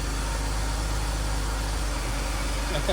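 A BMW E46 323ci idles steadily inside a closed garage, a constant low engine hum running without a break from start to end, close and fairly loud.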